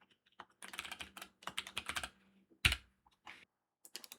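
Quiet, close bursts of keystrokes on a computer keyboard, with quick runs of clicky taps broken by short pauses and one sharper key strike.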